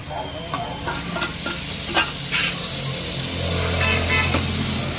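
Chicken pieces frying Tamil Nadu style with onions, a steady close sizzle with stirring and scraping throughout, occasional clinks of a utensil against the pan, no talking.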